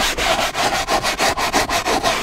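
A brush scrubs a stained seat in quick, steady back-and-forth strokes, each a loud rhythmic rasp, about ten passes close up with no talking.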